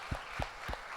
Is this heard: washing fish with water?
no